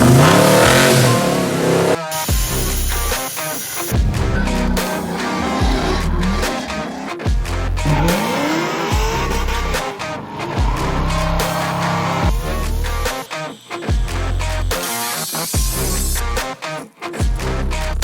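A restomod car's engine revs and accelerates while driving, rising and falling in repeated pulls with abrupt cuts between them, loud and close throughout.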